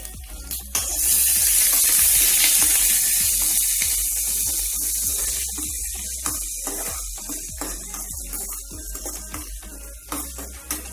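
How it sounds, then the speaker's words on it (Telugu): Okra frying in a pan with onion and green chili: a steady, bright sizzle with loose clicks and scrapes of stirring that grow more frequent as the hiss eases. "ఆనియన్ పచ్చిమిర్చి కూడా వేసుకొని చక్కగా రోస్ట్ చేసుకోవాలి"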